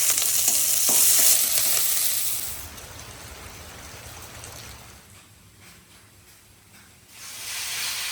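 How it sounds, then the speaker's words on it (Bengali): Chopped ridge gourd, potato, onion, green chili and black cumin fry in a pan, with a loud close sizzle and stirring at first that fades to a softer hiss, then the sizzle swells again near the end. "এদিকে সব সবজি ভালো করে ভাজা হয়ে গেছে।"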